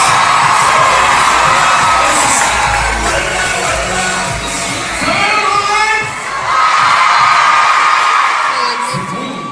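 An audience packed into the Grand Rex cinema erupts in loud cheering, whoops and high shouts, a continuous crowd roar that dips briefly near the middle before swelling again.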